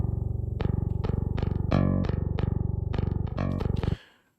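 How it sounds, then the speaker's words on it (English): A dry bass guitar DI signal through the Nolly bass plugin plays a fast metal riff of tight repeated notes with accented hits, loud and close, ending abruptly and ringing out briefly. "Now I'm just using the DI of Nolly bass"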